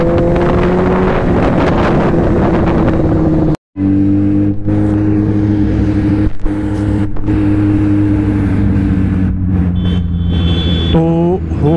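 A motorcycle rides at full throttle on a Sunday morning ride, its engine droning loud and steady with heavy wind buffeting, a brief cutout near four seconds and revving pitch climbs near the end.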